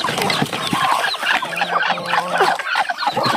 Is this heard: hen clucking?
yes